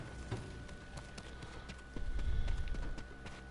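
Horse hooves clip-clop in the samurai game Ghost of Tsushima, a soft steady rhythm of steps that swells louder toward the end over a low rumbling backdrop.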